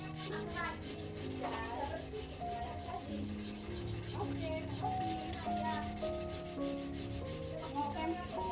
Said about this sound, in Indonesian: Gosokkan amplas pada seluruh bagian handle